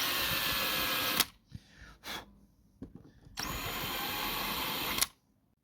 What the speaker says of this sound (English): now we're going to countersink that for those two wee screws